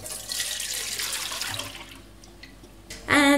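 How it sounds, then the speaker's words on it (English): Fishy milk from poaching smoked haddock for cullen skink pours through a strainer into a pot in a steady close splashing stream, thinning to drips before a brief louder clatter at the end. "So strain the rest of the fishy milk into a pot."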